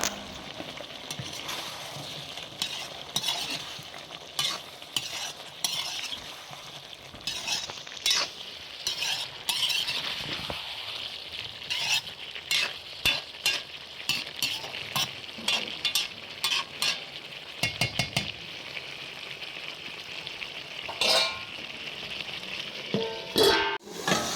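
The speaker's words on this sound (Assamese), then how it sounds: "গোটেইখিনি জোক কৰি আৰু ধুনীয়াকৈ ভাজি দিম" Duck meat stir-frying with ginger and garlic in a home kitchen, a loud close sizzle broken by repeated rhythmic scrapes and clinks of a spatula against the pan, continuing steadily with no talking.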